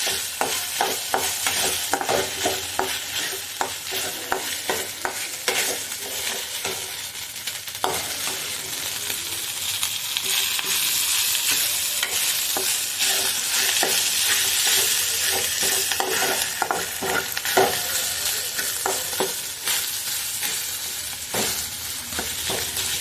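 Mutton keema frying in a pan, loud continuous sizzle with rapid repeated scraping and stirring strokes, steady and close throughout, no talking.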